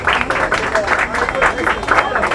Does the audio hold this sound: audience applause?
yes